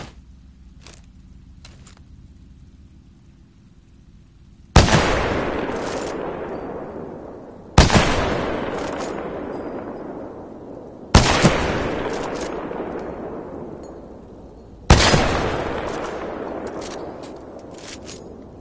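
Four loud, separate blasts of weapon fire in the Titanfall 2 video game's training range, each with a sharp attack and a long decaying echo, spaced a few seconds apart after a quieter stretch of low hum and faint clicks.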